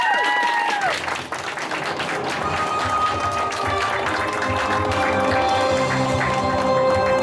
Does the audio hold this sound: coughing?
no